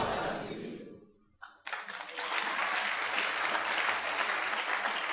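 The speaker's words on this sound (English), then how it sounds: "If you are clapping, you clap more better, please." Church congregation clapping at a sermon on generosity, with a brief quiet gap before applause swells and holds steady, loud and continuous, with faint voices underneath.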